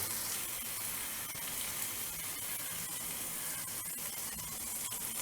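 Black-eyed bean ingredients frying in virgin coconut oil in a pan, a steady dense hiss and crackle throughout, close and unbroken, with no voices.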